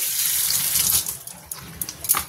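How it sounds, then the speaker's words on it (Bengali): Hilsa fish rinsed under a running kitchen tap, a loud close hiss of water with irregular splashes and patters as the fish are turned in the stream. "মাছগুলোকে ভালো করে ধুয়ে নিয়ে নুন হলুদ মাখিয়ে নেব।"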